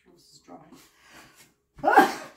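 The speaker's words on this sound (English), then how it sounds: "Pepper makes me sneeze." A soft murmur of breath and small noises while cooking with pepper leads into one sharp, close sneeze near the end.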